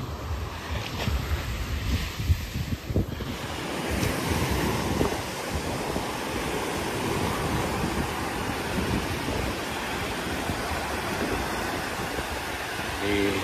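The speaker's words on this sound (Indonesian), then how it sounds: "Ini gelombangnya datang mengejar kita ya. Itu gelombang yang cukup besar." Ocean waves surge and break onto the beach at Pantai Tiram in Padang Pariaman, a steady loud wash of surf with heavy wind buffeting the microphone throughout, no voices.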